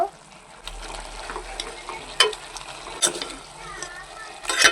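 Chicken pieces fry and are stirred in curry paste in a home kitchen pan, with a steady sizzle and scraping stir strokes, a few sharper clinks of the utensil against the pan.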